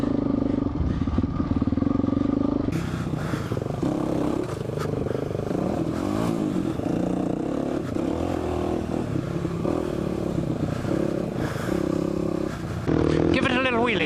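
Dirt bike engine on an enduro ride through the Badlands, a steady close motor drone with shifting revs and clattering over rough ground for the whole stretch, with a brief rising rev near the end.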